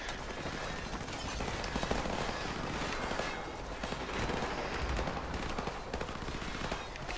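Sustained gunfire in Call of Duty Modern Warfare Remastered, a dense rattle of rapid automatic shots and scattered reports, steady and moderately distant, with no talk over it.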